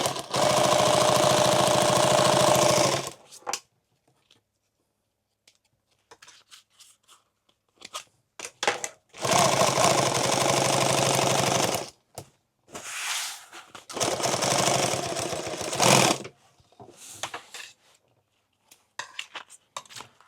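A sewing machine stitches a tool bag in three loud, steady runs of a few seconds each, separated by quiet pauses with small handling clicks.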